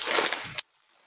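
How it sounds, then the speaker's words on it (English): Hot water pours for a moment into a dish to soften rice paper for Vietnamese egg rolls, a close, bright splashing rush that stops abruptly, leaving quiet room tone. "we're gonna pour hot water in it so that it softens up"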